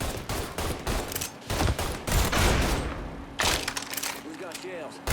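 Gunfire during a firefight in the video game Mafia 3, with dense bursts of shots and thuds in repeated volleys, loud and close, mixed with shouting voices.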